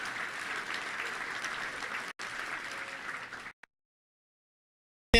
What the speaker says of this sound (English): Please give a round of applause to our Lieutenant Governor, Lieutenant Governor Leslie Rutledge